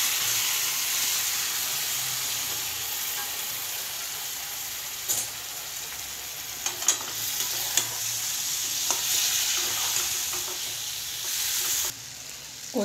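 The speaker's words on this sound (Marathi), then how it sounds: "आणि आता आपण हे पीस टाकू त्याच्यात." Chicken pieces fry in a spiced masala, giving a steady, loud sizzle with occasional stirring clinks and scrapes and no voices.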